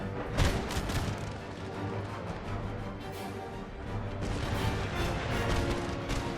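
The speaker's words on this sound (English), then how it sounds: "Cannon fire seems to be disrupting this one a little bit." Booming cannon fire in an Empire: Total War battle, with repeated heavy blasts over a constant roar of combat noise.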